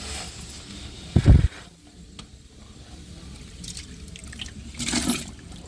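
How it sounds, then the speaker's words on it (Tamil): Soaked, washed rice is tipped into a pot of water on a village cooking fire, giving a brief loud splash and pour followed by a softer later swish of water. "அந்த அரிசி ஒலையில் போட்டுடலாம்"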